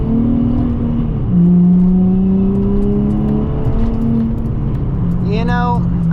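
Nissan 350Z engine droning and shifting pitch under acceleration through gears, loud and close from inside the car, with a voice briefly speaking near the end.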